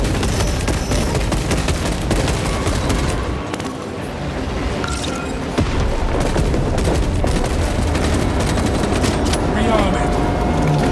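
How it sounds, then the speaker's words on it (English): Explosive charges detonate amid dense battlefield gunfire in Warhammer 40k Space Marine 2, loud continuous bursts and booms with shouted voices mixed in. "Detonate the charges now!"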